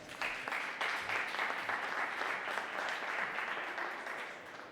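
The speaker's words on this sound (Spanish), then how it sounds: "Pilar, puedes aplaudir, te dejo." Sustained applause from a seated audience at the close of a presentation on sustainable innovation investment, a dense even patter of many hands at steady volume tapering slightly at the end, with no talking over it.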